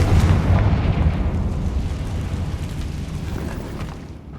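Spell explosions from Bombarda and Confringo boom in Hogwarts Legacy, a loud deep blast at the start followed by a long rumbling decay that slowly fades.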